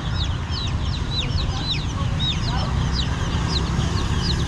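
A flock of chickens about 45 days old clucks and chirps repeatedly over a steady, noisy outdoor background. The calls come close and fairly loud, with no clear talk in between.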